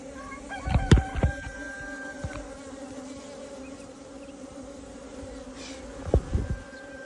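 Honey bees drone steadily around an opened hive during a split and inspection, a soft continuous buzz with a few louder close passes and a distant rooster crowing.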